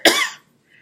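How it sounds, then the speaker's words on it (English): One sharp, close cough bursts out and dies away quickly in a quiet counseling session room. "excuse me, I got a cough"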